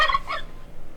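A turkey gives a short, rapid gobble close up, loud at first and then trailing off into quiet.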